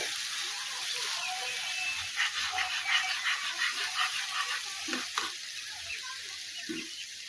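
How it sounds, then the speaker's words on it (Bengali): Water is poured into a pan of bubbling tomato sauce with chili flakes and salt, giving a steady sizzling hiss with a few louder splashes and bursts of spitting partway through. "জল অ্যাড করবো।"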